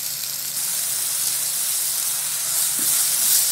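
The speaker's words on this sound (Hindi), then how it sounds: "अदरक, लहसुन और हरी मिर्च का पेस्ट, और इसमें प्याज भी मैंने पीस रखा है, इसको मैं अच्छी तरह से भून लूँगी" A paste of ginger, garlic, green chili and onion fries in a pan, giving a steady, close, continuous sizzle and hiss with no talking.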